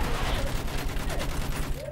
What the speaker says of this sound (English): Use that machine gun, throw them down!